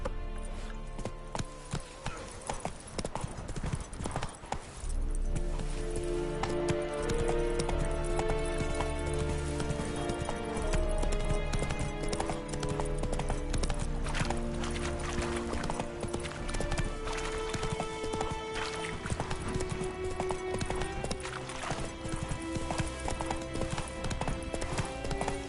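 Roach, a horse in The Witcher 3, gallops with a steady, rapid clip-clop of hooves over a dense musical score, loud and continuous for most of the stretch after a brief quieter opening.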